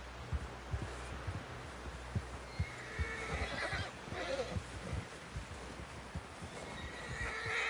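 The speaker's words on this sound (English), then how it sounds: "Someone help John down off this horse." A horse whinnies in the video game Red Dead Redemption II amid steady clip-clop hoofbeats and a low rumbling background, with the neigh rising in the middle and again near the end.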